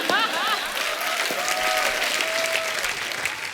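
A large audience of around 500 people clapping in a television comedy show studio, continuous loud applause with a voice speaking or calling out over it.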